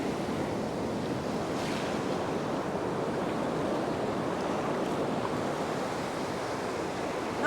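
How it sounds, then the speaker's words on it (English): Ocean surf breaks on the shore at Encounter Bay near Victor Harbor, South Australia, a constant broadband roar of white water with wind buffeting the microphone, steady and uninterrupted. "Look at the size of those waves."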